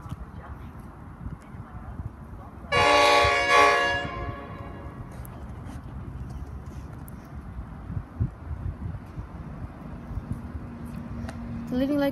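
A train led by a locomotive approaches, sounding a loud horn blast of about a second, followed by a low rumble that gradually builds.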